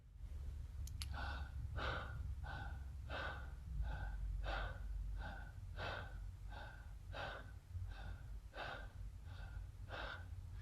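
Deep, full breaths drawn close to the microphone in a therapeutic breathwork exercise, a quick sharp gasp followed by a steady rhythm of about a dozen even, audible inhales and exhales.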